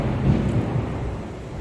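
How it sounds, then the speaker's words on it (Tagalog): Deep, continuous rumbling thunder rolls loudly, with a wash of rain noise beneath it. "Lakas ng kulog, narinig nyo?"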